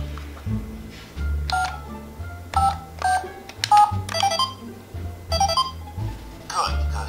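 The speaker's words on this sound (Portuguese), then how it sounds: "Ih, peraí, tem gente me ligando." A phone sounds an incoming call in a short repeated electronic ring pattern, with clear gaps between the tones and speech at points alongside.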